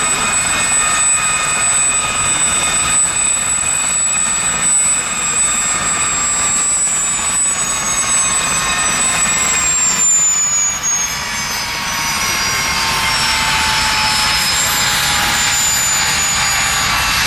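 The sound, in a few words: Westland Gazelle helicopters flying at air show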